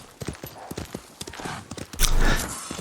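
Hooves of a horse in Ghost of Tsushima clop in a quick galloping rhythm, loud and close, with a louder rushing burst near the end.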